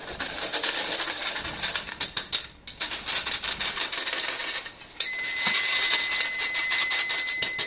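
Dense crackling and sizzling from pork cracklings frying in a pan, steady and close, with a short lull midway before the spitting resumes.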